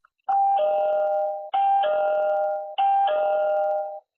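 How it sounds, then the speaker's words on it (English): A doorbell chime rings three times in a steady sequence, each a clear two-tone ding-dong, close and loud with no other sound around it. "video doorbell will let you know when someone's at the door"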